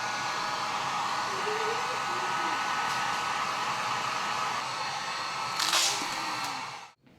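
A $9 Harbor Freight heat gun blows a continuous steady airflow whirr up close while removing decals from a kid's bike, with a brief rustle near the end before it cuts off.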